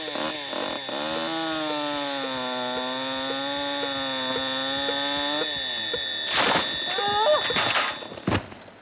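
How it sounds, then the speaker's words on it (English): A chainsaw engine drones steadily for several seconds with a wavering pitch, then revs in a few louder bursts before cutting out. "when you're using a chainsaw"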